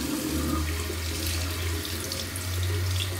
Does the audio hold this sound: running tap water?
yes